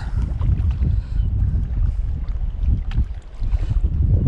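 Steady wind buffets the microphone at a bay during shore-based fishing, a continuous low rumble with gusty swells and faint water sounds, no talking.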